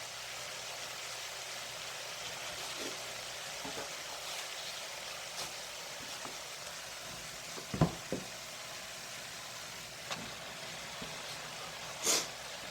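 Ground beef frying in a pan gives a steady, fairly quiet sizzle heard up close, with a few sharp clicks and utensil knocks scattered through it and no talk.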